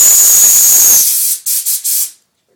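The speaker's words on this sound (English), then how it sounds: "Sprays that powder." Handheld sprayer misting talcum powder mixed with water, a loud steady hiss for about a second, then three short spurts before stopping.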